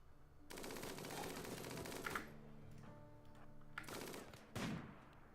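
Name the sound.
gunfire in the video game Rimworld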